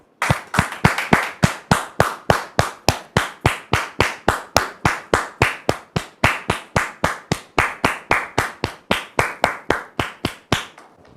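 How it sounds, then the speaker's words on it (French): Crisp, steady clapping from a studio audience in a regular, even beat keeps going for several seconds without a break, close and fairly loud. "Dame Georgette, que nous recevons sous vos applaudissements"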